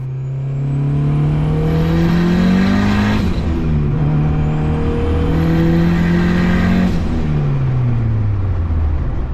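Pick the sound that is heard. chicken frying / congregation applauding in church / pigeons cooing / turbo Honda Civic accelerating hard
turbo Honda Civic accelerating hard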